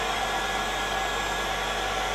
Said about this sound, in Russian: фен работает.